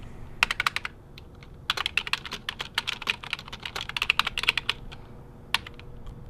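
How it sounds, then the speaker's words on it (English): Rapid clicking of keys on a computer keyboard, heard close and alone in uneven bursts with short pauses, with no voices. "Jerry, can you please stop typing and turn the light off?"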